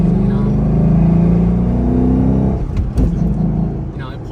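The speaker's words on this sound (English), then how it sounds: "It's got a nice rumble, that V8 rumble." A 2011 Ford Mustang GT's V8 engine rumbles steadily and loudly under acceleration, with a low throaty drone that eases off toward the end while people talk over it.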